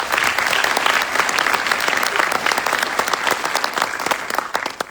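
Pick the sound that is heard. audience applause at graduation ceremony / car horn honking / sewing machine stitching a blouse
audience applause at graduation ceremony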